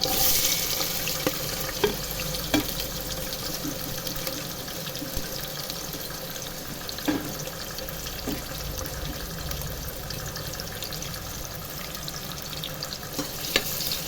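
Chopped onions dropped into hot oil in a pressure cooker sizzle steadily, a continuous frying hiss with scattered soft clicks and pops, close and fairly loud throughout.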